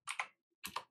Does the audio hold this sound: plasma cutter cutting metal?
no